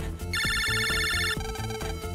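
A phone rings in the Mega Man Battle Network 4 video game, a bright electronic trill repeating over a rhythmic game music loop.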